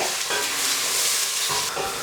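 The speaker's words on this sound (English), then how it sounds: "I'm going to add my onions in, and we're going to cook them on high heat for 5 minutes" Onions frying in oil over high heat, a loud continuous sizzle with short bursts of stirring that briefly break the hiss.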